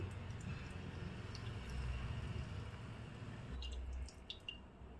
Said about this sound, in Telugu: ఇలా పాలని వడకట్టుకోవాలి